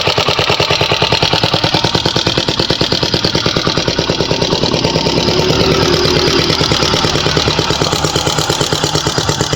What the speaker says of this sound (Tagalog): ito na yung motor na nakita nyong basura pero umaandar pa